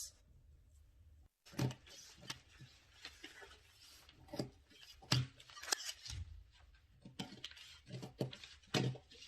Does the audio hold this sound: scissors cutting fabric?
yes